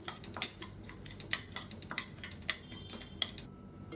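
Semolina dry-roasting in a pan over low heat, heard as a quiet run of crisp clinks and scrapes from a utensil stirring against the metal, irregular and close, with a faint hiss beneath.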